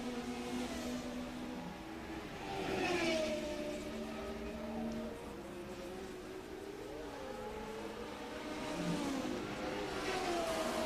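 Formula 1 race cars from the 1981 season racing, with high engine whines rising and falling as cars pass, moderately loud and continuous.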